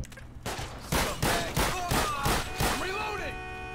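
Gunfire in the video game GTA 5 from a military patrol with a Humvee and .50 cal M2 Browning: a rapid series of loud, evenly spaced blasts, each with a ringing tail, with a voice talking around it.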